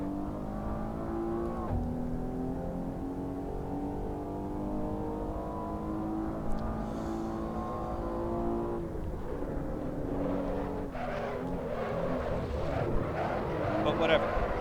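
A Maserati Levante S SUV runs in the Assetto Corsa racing game, its engine droning in a steady, harmonic tone that shifts partway through and then climbs again as it accelerates.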